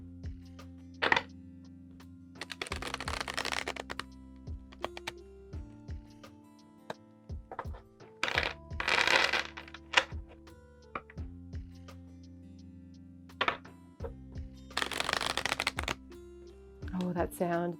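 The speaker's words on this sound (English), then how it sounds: "They shuffle really well." An Antiques of Magic oracle card deck is shuffled in three bursts of dense riffling, each ending with a few sharp taps as the deck is squared, over a steady low musical backing.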